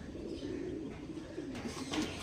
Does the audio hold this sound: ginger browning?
no